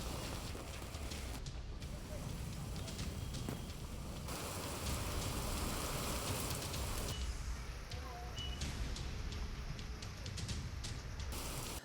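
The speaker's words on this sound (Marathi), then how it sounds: "पंढरपूरला मेघगर्जनेसह वादळी वारा आणि पावसानं झोडपलाय" Rain with stormy wind pouring down in Pandharpur, a steady, dense hiss of heavy rainfall on surfaces, with shifting intensity and no clear thunder.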